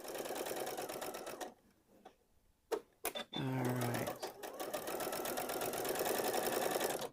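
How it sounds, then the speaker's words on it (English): A sewing machine stitches quilt pieces in rapid continuous runs, loud and close, stopping briefly for a few clicks and a short whirring adjustment before racing on again with no talking. "let's get these over there and sew these as well"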